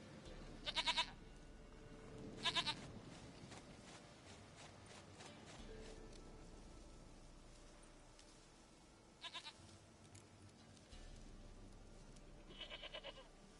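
A goat in The Witcher 3 video game bleats in several short, quavering calls spaced out over a quiet rural game ambience, each bleat brief and fairly near.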